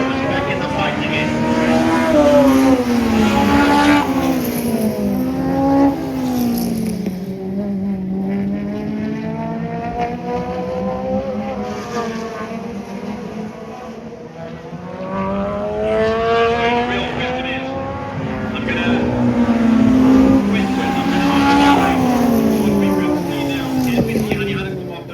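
2.1-litre modified race cars racing on a circuit, several engines roaring and rising and falling in pitch as they pass close by, a continuous loud pack sound that swells and dips over the whole stretch.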